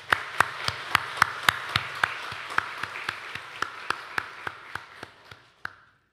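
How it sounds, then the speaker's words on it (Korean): A church congregation claps in steady unison at a Sunday service, about sixteen crisp, evenly spaced claps that gradually soften and end with a final clap before quiet. "우리 모두를 위해서 우리가 스스로를 격려하고 칭찬하는 박수 한번 하겠습니다."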